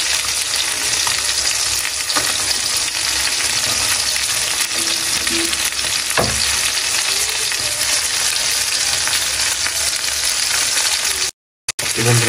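Koi fish frying in a pan: oil sizzles loudly and continuously with crackling spatter, a few brief clinks of a utensil, and a short dropout near the end.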